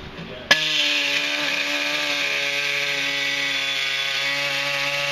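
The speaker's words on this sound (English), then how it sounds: "take a die grinder and score this area until we can just bend it back and" A die grinder scoring metal on Assault Switchback running boards spins up with a brief thump, then holds a loud, steady high-pitched whine that continues evenly to the end.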